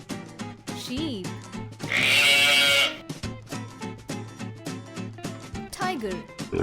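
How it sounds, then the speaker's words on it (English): A sheep gives one long, wavering bleat lasting about a second, loud and near, over a cheerful children's music track with a rhythmic train-style beat. "Sheep."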